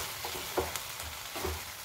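Tomatoes for a spicy, tangy tomato pickle cook down on medium heat in a pan, giving a steady, soft, close sizzle with a few brief stirring scrapes and taps, and no voices.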